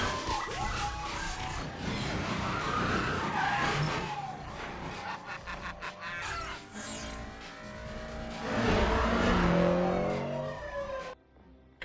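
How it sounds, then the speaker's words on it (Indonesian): Police cars chasing through a film scene, with engines roaring, tires skidding and sirens wailing amid loud, shifting traffic noise that surges and fades. "Puluhan mobil polisi terus melakukan pengejaran."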